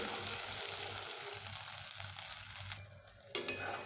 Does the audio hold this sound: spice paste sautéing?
yes